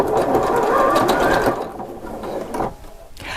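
A Janome 4120QDC-T sewing machine stitches a quarter-inch seam on knit fabric with stabilizer, a loud, close, steady whir for about a second and a half, then slower, lighter bursts before stopping.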